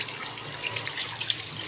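Water runs steadily from a tap during the washing of Matthi fish, a soft continuous splashing over a short stretch.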